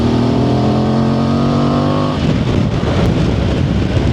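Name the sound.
Voge DS800X motorcycle engine while riding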